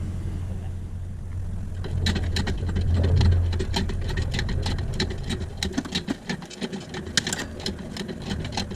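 Jack being pumped by hand to raise the engine of a Chevy Tracker, giving a rapid run of close mechanical clicks and ratchets in a garage. A low hum sits under the clicks.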